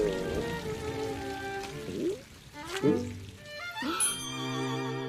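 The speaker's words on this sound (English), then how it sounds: "And of course it rains because logic." Cartoon rain in a Mickey Mouse short, soft pattering and pouring under a musical score with sliding whimsical notes and short swooping phrases.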